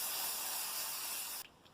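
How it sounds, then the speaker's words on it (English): Cheap hairspray is sprayed lightly over shimmer powder on a craft card, a single close continuous hiss lasting over a second before cutting off abruptly. "Take some cheap hairspray and just lightly"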